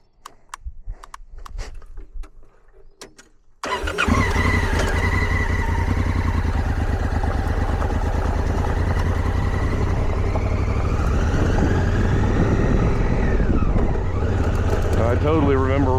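Motorcycle riding along a road near Florissant, Colorado, a steady close engine drone with wind rush that starts suddenly after a few seconds of quieter sounds and holds throughout.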